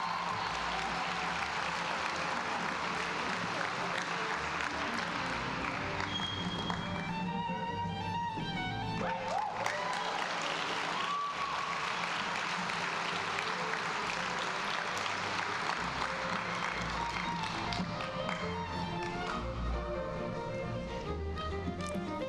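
Sustained audience applause at a medical school white coat ceremony for incoming students, a dense, steady wash of many hands clapping in a large hall that continues for over twenty seconds.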